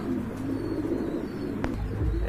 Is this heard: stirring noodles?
no